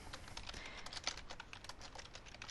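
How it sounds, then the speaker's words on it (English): Someone types notes on a computer keyboard, a quick, steady run of soft key clicks heard close up with no voices. "you can put all your notes right in here and type as as needed"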